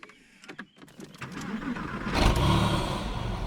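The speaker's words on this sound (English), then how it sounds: "let's start the car" A Porsche 996 Carrera flat-six cranks and fires up from inside the cabin after a few clicks and rustles, catching with a loud rising roar that settles into a steady, rumbling idle close by.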